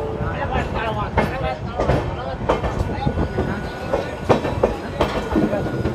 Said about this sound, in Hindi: चलिए तो निकल चुकी अपनी ट्रेन अम्बाला से भी